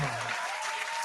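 An audience applauds in a short burst of clapping at a steady level throughout.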